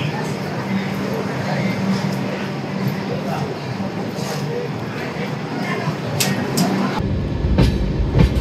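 A passenger train runs on rails on the Miraj to Kolhapur line, a steady loud rumble with rhythmic wheel clatter and brief squeals near the end.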